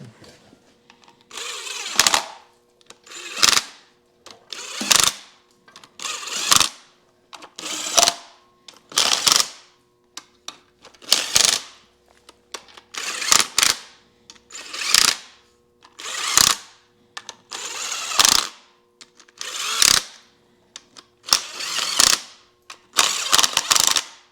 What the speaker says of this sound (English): Just got to get myself a socket so we can snug these up.